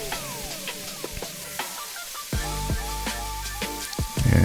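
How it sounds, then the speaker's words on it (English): Food being stirred in a hot pot with oil, utensil scrapes and knocks over a steady sizzle, growing louder toward the end. "And we're going to stir that in."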